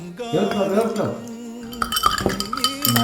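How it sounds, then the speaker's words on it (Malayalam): A spoon clinks and scrapes against a cup while stirring a hot homemade herbal health drink, a few light metallic taps and rattles, close and fairly clear with no talk. "ഇളക്കുന്നു"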